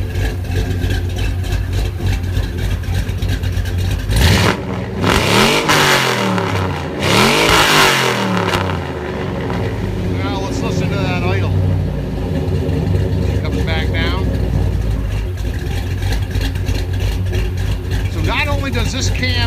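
A 6.0 LS V8 with 5.3 heads and a stage 2 cam barks through loud revs, rising and falling sharply a couple of times, then settles into a lumpy, galloping idle close by, with a voice talking over it.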